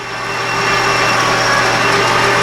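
A steady, loud mechanical whine with a low hum runs throughout as a machine tool drills into metal stock, removing material for a tap handle socket, with no voices.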